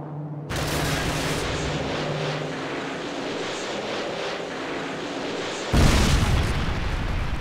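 Missile strikes in Call of Duty Modern Warfare 2 land as loud, sustained booming explosions with aircraft rumble, a sharp fresh blast bursting in near the end.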